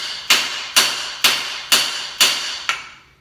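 A hammer strikes metal bolts six times in a steady rhythm, about half a second apart, each blow a sharp, loud, ringing clang that decays quickly, with no talking.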